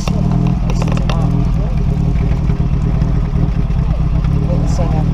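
A vintage Singer car runs at a club meet, its engine chugging steadily at idle with a loud, close, slightly clattery mechanical note, while people talk nearby.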